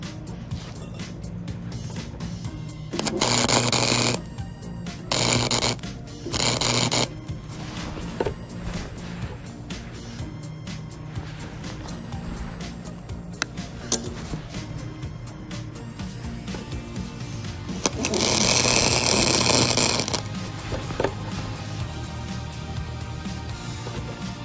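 A $100 Harbor Freight welder running too hot crackles in three bursts of arc welding, short ones early on and a longer stretch later, set against a low background hum.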